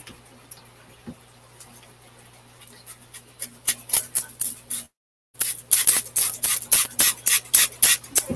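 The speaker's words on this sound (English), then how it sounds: "So I like to use a spray bottle." A spray bottle mists water over a Grindle worm culture in a series of sharp, rhythmic hissing squirts, sparse and light at first, then a quick run of loud, close bursts after a brief pause.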